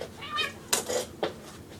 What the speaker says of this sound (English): Sorry, my cat was on my computer.